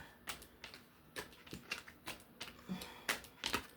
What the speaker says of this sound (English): I'm just putting these cards back in order.